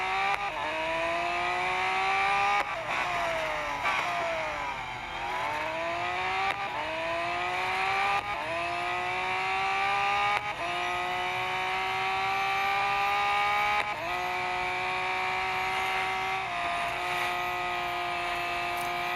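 A Lamborghini Essenza SCV12 in a racing video game drives continuously, its engine note sweeping up through the gears and dropping on shifts, with steady revving throughout and no talk.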